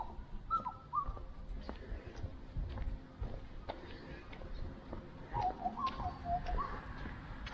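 Birds call and chirp in a quiet, leafy outdoor area, with short whistled notes scattered over a soft ambient background.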